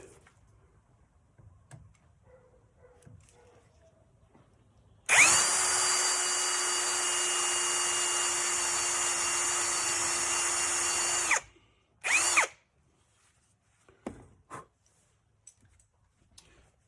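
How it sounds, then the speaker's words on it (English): A power drill whirs steadily for about six seconds at close range while drilling a pilot hole in a railroad spike, then stops, followed by a short second burst and a few light clicks. "going to drill my little pilot hole first."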